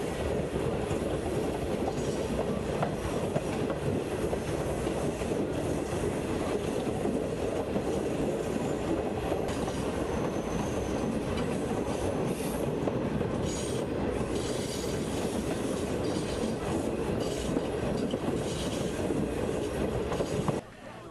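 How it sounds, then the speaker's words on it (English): A passenger train rolling through Jamaica's rustic countryside, with a loud continuous rumble, rhythmic clickety-clack of wheels on rails and occasional squealing, steady throughout before cutting off at the end. "to see the train make its way across Jamaica's rustic countryside"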